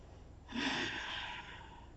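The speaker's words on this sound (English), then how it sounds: "Breathing heavy, breathing light, however works for you." A single long, soft breath drawn in and released during a yoga flow, close and quiet, with no talking.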